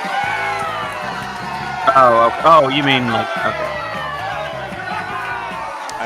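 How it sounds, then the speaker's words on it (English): A canned cheering crowd sound effect plays during a live online matching game, with whoops and shouts rising in bursts under people chatting over it. "That was an oddly long cheer sound effect"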